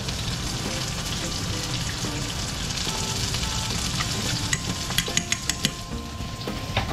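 Steady sizzling of food frying in a pan as it is stirred and broken apart, a continuous crackle with a few sharper taps of utensil against pan near the end.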